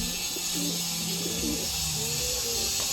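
Large, pure white Allahabadi jumbo pigeons coo softly in low, rolling calls over a constant background hiss, several coos overlapping across a few seconds.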